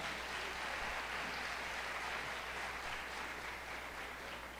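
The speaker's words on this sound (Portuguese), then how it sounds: "Vamos aplaudir o Senhor pela vida dela?" A church congregation claps together in sustained applause during a service, a fairly quiet, even wash of hands lasting several seconds with no voices on top.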